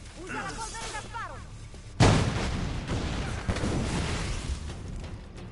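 Gunpowder going off in Assassin's Creed IV Black Flag, a sudden loud boom that breaks in after a quieter stretch and rumbles on with crackling debris, with voices talking around it.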